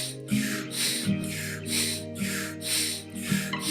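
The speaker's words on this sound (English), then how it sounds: "Keep breathing. Powerful breath." Forceful rhythmic yogic pranayama breathing, loud and close, with strong bursts of airy breath repeating about once a second over a steady low musical drone.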